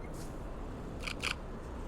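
Two quick mechanical clicks from a camera shutter firing on an autumn evening street in Berlin, faint and close against steady low city background hum.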